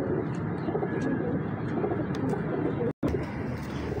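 Pigeons coo in a close, steady bird chorus of fancy silky-feathered breeders' stock, set against constant broad background noise that drops out for a moment near the end.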